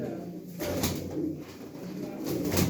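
Pigeons coo steadily and close by, a soft continuous murmur of several birds with a faint voice underneath.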